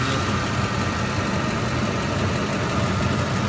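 A 1997 Ford F-150 running on CNG idles with a misfire from a bad ignition coil, a loud, close, continuous engine drone with an uneven low rumble and no talk over it.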